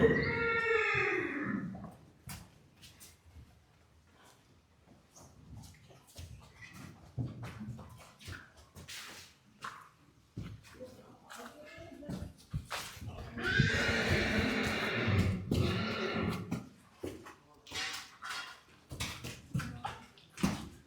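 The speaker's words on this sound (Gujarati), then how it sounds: "જોઈ લ્યો, બાકી કાંઈ ન ઘટે એવા ઘોડા." Horses at a horse farm in Junagadh whinny and neigh loudly up close, with a long descending neigh at the start and another burst later, amid snorts, stamping and scattered voices.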